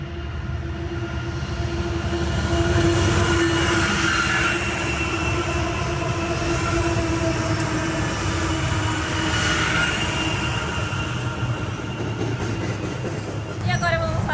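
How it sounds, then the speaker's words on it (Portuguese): Freight train rolling past in a town in the United States, a loud, continuous rumble and rattle of wagons with faint wheel squeal, steady throughout and close by. "Ó o trem passando aí, gente!"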